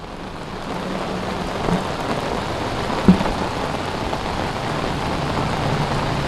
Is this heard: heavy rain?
yes